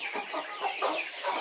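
Silkie chickens cluck close by, a busy overlapping stream of clucks and murmurs from several birds.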